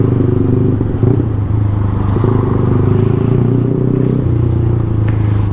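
A Yamaha MT-15 motorcycle engine runs loud and close, holding a steady throaty drone with rising and falling throttle blips and a brief clattering knock near the start.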